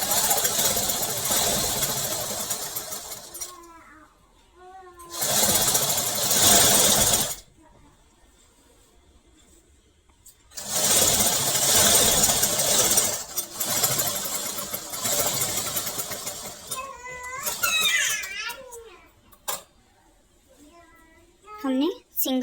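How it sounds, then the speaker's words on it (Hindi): A sewing machine stitches white lace onto baby trousers in three loud, rapid bursts, with quiet pauses and a voice speaking between the runs. "अभी हम इसकी स्टिचिंग करेंगे।"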